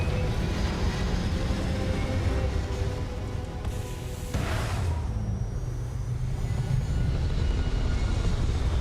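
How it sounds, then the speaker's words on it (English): A spaceship in the Starfield video game flies through the sky with a loud, steady engine roar and rushing wind that keeps going the whole time, briefly dipping and swelling midway. "That's us airborne. Sail over the sky."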